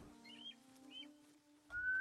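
Birds calling in a video game, with two short high chirping whistles early on and a brighter whistled tone near the end, quiet over a steady low game hum.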